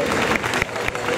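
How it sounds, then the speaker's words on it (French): Loud, close crowd applause with some cheering mixed in, continuous and energetic, at a cosplay show. "On les applaudit très fort, Claire de Manassé de Macross Frontières."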